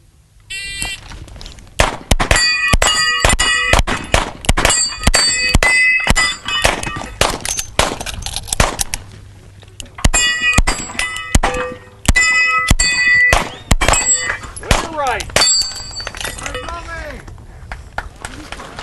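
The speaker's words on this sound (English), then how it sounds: "Rotating plate racks are always an interesting thing to watch because it's really just depending on where you hit, it can send the plate going in a totally different speed or direction." Rapid rifle or pistol shots ring off steel plates on a rotating plate rack during a man-on-man shooting match at the 2012 MGM Grand Nationals, with dense bursts of sharp metallic clangs and pings over crowd noise and talk.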